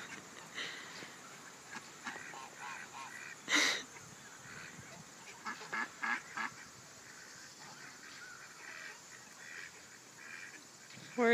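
Flock of ducks and geese gathering outdoors, scattered quacks and honks at moderate distance with a few sharper calls, fairly quiet, no talk over them.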